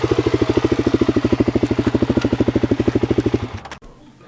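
A Suzuki DRZ400 motorcycle engine runs close by with a loud, even, rapid thumping idle that continues for several seconds, then cuts off abruptly into near silence.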